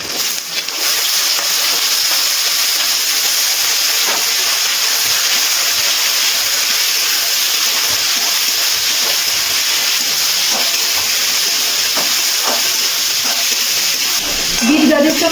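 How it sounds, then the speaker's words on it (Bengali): Beetroot and carrot pieces hit a wok of fried potatoes over a high flame, giving a loud, continuous broadband hiss of frying that holds steady throughout, with a brief rise near the end. "এবার এর মধ্যে বিট গাজরগুলো দিয়ে দিচ্ছি ভাজার জন্য।"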